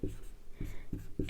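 Chemical formula being written by hand, a few short, soft strokes in quick succession, faint and close, with no speech.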